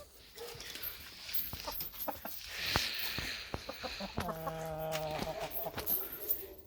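Chickens near their henhouse cluck and call at a moderate distance, with a longer drawn-out squawk midway and soft outdoor background noise.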